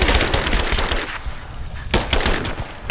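Rapid automatic gunfire in Rise of the Tomb Raider, with dense bursts that pause briefly around the middle and then resume loudly, close and continuous.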